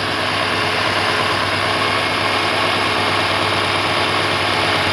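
A first-generation Chevrolet Astro/GMC Safari van engine idles steadily with a constant low hum and vibration, while the oil pressure switch is disconnected during fuel pump circuit testing.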